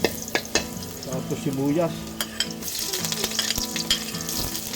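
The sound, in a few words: squid, garlic and onion frying in hot oil in a pan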